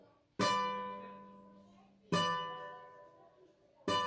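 Three strong guitar strums or chords ring out on the intro of a song, each struck sharply and left to sustain and fade for over a second before the next, close and clear with no speech.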